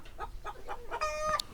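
Chickens cluck around a Cane Corso dog in a short series of close, rhythmic clucks, ending in a higher, drawn-out call.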